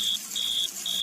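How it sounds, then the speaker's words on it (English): A smoke alarm set off by a small smoking fire indoors beeps loudly, three long, steady high-pitched tones in a regular rhythm. "Can't you do something about that bleeding alarm?"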